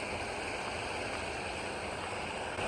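A garden creek, running somewhat low, flows with a steady, dense rushing wash heard up close, continuous and without talk.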